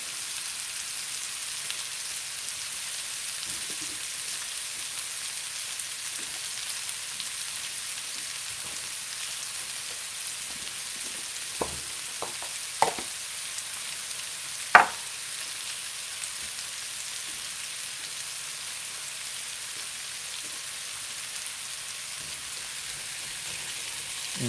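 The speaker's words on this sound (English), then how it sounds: "I'm going to put them, get them stirred around in the fat here and just saute for a couple of minutes" Fennel, onion and shallots saute in fat in a pan for a mushroom gravy, making a soft, constant sizzling hiss that carries on throughout. A few faint knocks sound near the middle.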